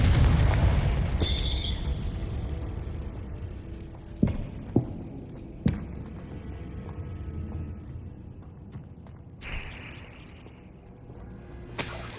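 Fire spell explosions in the Hogwarts Legacy video game burst out as a deep rumbling boom that fades, followed by several sharp cracks and a later whooshing burst, loud and up close, with no talking.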